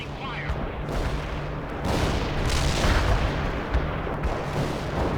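Sustained gunfire and distant booms roll over a convoy under attack in the real-time strategy game World in Conflict, a dense, continuous battle din with low rumbling blasts and crackling shots swelling midway.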